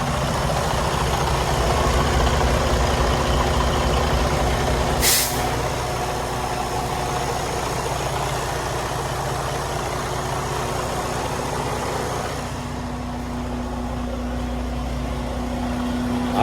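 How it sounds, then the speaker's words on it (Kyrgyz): A 2019 semi truck with a 455-horsepower diesel engine idles with a steady, loud low rumble; a sharp air-brake hiss bursts out about five seconds in, and the engine note drops slightly near the end. "Мотор иштешти."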